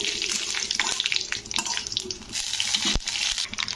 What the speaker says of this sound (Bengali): তেজপাতা, শুকনো লঙ্কা আর একটু পাঁচফোড়ন দিয়ে দিলাম। তো ফোড়নগুলো একটু ভাজা ভাজা মানে